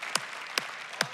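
Three sharp claps land at an even, measured pace, like a crowd clapping along together at a faith gathering, each beat crisp and close over a quiet background.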